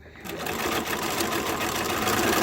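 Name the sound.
sewing machine chain piecing fabric masks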